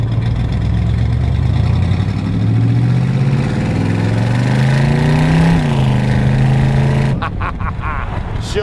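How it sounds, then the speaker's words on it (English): A 1938 Chevrolet street rod makes a jackrabbit start outside a shop in Plymouth, Michigan, its engine revving up loudly and rising in pitch for several seconds before cutting off sharply. "We'll do a little jackrabbit start here, see what she sounds like."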